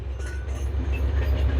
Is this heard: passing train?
yes